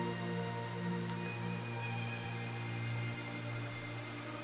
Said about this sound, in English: a soft, gentle spring rain begins to fall.